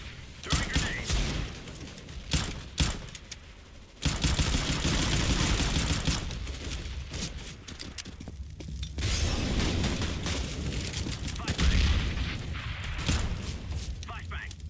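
Grenades and other utility in CS:GO, loud close explosive bursts and rattling gunfire, with sharp separate blasts early and then long stretches of dense booming, some short voice lines mixed in.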